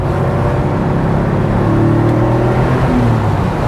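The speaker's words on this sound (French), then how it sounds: "Flat 6 rageur. C'est que du plaisir." A 1989 Porsche 911 Type 964 with its flat-six engine accelerating, a loud, steady engine roar whose pitch rises smoothly, heard close from on board.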